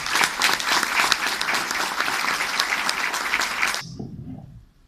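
An audience at a book presentation claps steadily and loudly for several seconds, then the applause cuts off abruptly and a faint voice follows.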